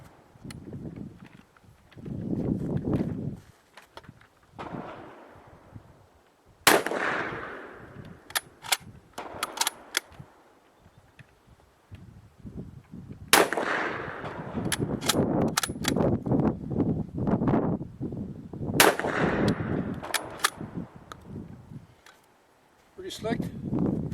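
A Mossberg 195 KA bolt-action shotgun fires three sharp, loud shots spaced several seconds apart outdoors. Between shots there is bolt handling, and someone talks.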